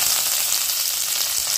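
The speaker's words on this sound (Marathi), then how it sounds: "तेल तापल्यानंतर मोहरी, तीळ, अक्के जिरे, कढीपत्ता, मोहरी तडतडले" Mustard seeds, sesame, cumin and curry leaves spluttering in hot oil for a drumstick curry, a loud, dense, close crackling sizzle with no voices.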